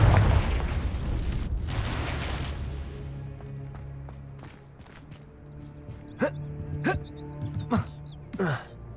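Confringo fire spell from Hogwarts Legacy, a loud fiery blast that rumbles and fades, followed by a few sharp, spaced crackling bursts.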